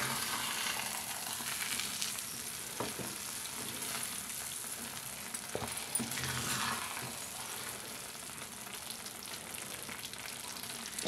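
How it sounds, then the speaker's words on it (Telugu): Multigrain rava upma cooking in a pan on the stove, a soft continuous sizzle and bubbling with a few faint stirring clicks, fairly quiet and steady throughout. "చక్కగా ఉడుకుతుందండి. ఇంకొక 2-3 నిమిషాలు ఉడకనిద్దాం."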